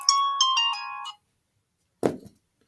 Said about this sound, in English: Stupid phone.